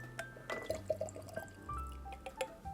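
A sample of bourbon whiskey is poured into a glass close by, a quiet trickle broken by small splashes and drips, with faint clinks of glass.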